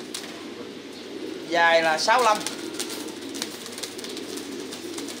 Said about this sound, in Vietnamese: Hôm nay đây là chuồng bồ câu.